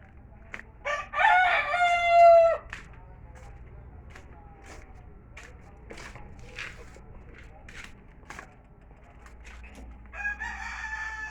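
A rooster crows loudly once near the start, followed by scattered clucks, soft thumps and quiet shuffling, with a brief chicken call near the end.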